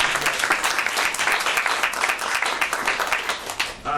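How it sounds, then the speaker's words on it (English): An audience at an EdTech Austin presentation on STEAM tools applauds at the close, dense sustained clapping from many hands filling the room and fading out near the end. "Let's give them a round of applause."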